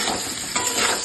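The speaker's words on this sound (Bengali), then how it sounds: "দেখো এই মোচার মধ্যে আলুটা ভাজা হচ্ছে।" Potatoes frying with banana flower in a pan, a steady close hiss of sizzling oil with faint stirring scrapes throughout the short stretch, no voices.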